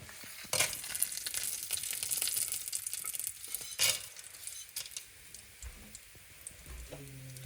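Whole spices sauté in a hot pan, giving a steady crackling sizzle with sharper bursts of spattering and occasional clicks of a utensil, heard close up with no voices.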